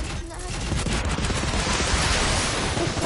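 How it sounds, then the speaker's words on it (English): Rapid, dense gunfire rattles continuously in a Fortnite match, loud and close, with players talking over it. "Keep shooting."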